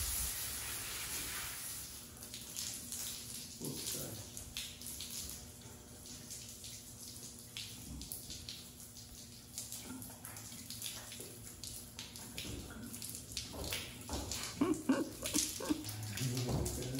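Cold water sprays onto a black and white paint Tennessee Walking Horse in a steady hiss, running unevenly with brief gaps and splashes, close by.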